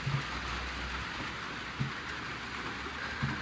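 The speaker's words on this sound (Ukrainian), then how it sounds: "Дощ пішов, звісно, такий дебелий." Heavy rain falls outside in a steady, dense hiss, with a low rumble underneath and a few soft thuds, and nobody talks.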